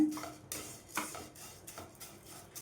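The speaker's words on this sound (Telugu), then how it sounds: "సేమియాని అయితే ఈ కలర్ వచ్చేంత వరకు వేయించుకోవాలండి" Plain upma vermicelli is roasted on a low flame for semiya kesari, with a spoon scraping and stirring it in a pan in soft, rhythmic strokes about twice a second, close and fairly quiet.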